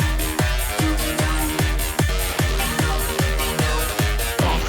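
Electronic dance music section built in FL Studio: a pounding four-on-the-floor techno beat with a standard techno vocal sample and a small snare break, loud, driving and steady.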